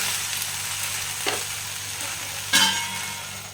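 Okra sautéing in a pan with ground cumin, for a mustard-poppy paste dish; a steady low sizzle with two brief louder stirring scrapes, the second stronger, and no talking.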